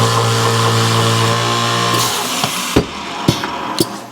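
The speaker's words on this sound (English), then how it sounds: "Let's drill the hole." A power drill whirs loudly and steadily for about two seconds, then winds down, followed by several sharp knocks or clicks.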